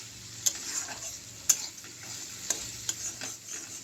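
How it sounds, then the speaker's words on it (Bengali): Chana masala with turmeric and cumin powder being stirred in a pan, a soft steady sizzle with a few sharp spoon clinks against the pan at roughly one-second intervals. "হলুদ গুঁড়ো আর জিরে গুঁড়ো দিয়ে দিয়েছি আমি ভিডিওটা করতে ভুলে গেছিলাম তো এবারে ভালো করে নেড়ে নিচ্ছি"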